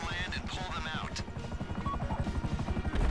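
An aircraft engine drones and chops as it approaches the main runway of the desert airport in GTA V, with rhythmic rotor-like pulsing growing stronger toward the end while a player talks over it.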